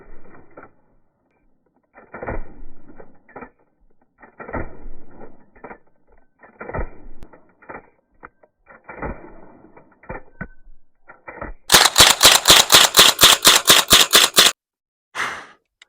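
A Rossi model 62SAC pump-action rifle is worked with sharp mechanical clacks and creaks, spaced pumping strokes, then a rapid run of about a dozen loud, crisp shots fired in quick succession, ending with one last clack.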